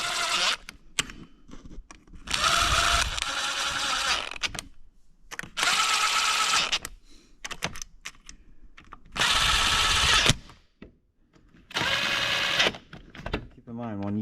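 A power tool gun runs in transmission bolts on a youth racer's car in four loud, close bursts of whirring lasting about a second each, separated by pauses with clinks, handling noise and some speech.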